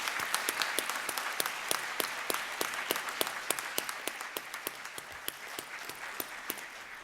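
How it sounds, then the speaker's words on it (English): A fairly small audience at a high school academic awards ceremony claps for graduates, the individual hand claps distinct and sharp in a steady, moderately quiet round of applause. "How about a round of applause for our graduates"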